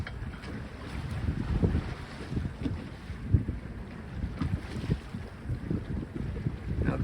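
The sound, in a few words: sailboat jibing in wind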